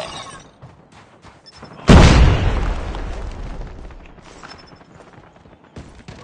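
A grenade explodes in Call of Duty Mobile with one loud, sudden boom that rolls into a long decaying rumble, followed by scattered faint gunfire and game sounds.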